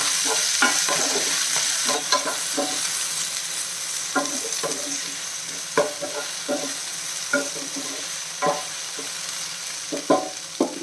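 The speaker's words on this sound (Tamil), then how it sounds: "இப்போ வந்து கிளறிடலாம்" Okra (bhindi) frying in a pan gives a constant sizzle, broken by repeated scraping strokes of a spatula stirring it, close and clear with no talk.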